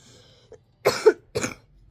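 Two or three rough coughs with a throat-clearing edge from someone with a lingering cough, close and fairly quiet, separated by short pauses in an otherwise still indoor room.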